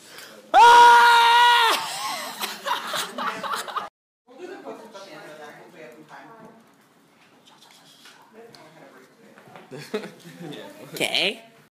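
A person lets out a loud, sustained scream lasting about a second near the start, followed by casual talk among several people and some laughter toward the end.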